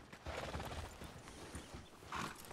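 Horse in the RedM game, with soft clip-clop hoofbeats and a brief whinny-like burst near the end, heard under background chatter at moderate level.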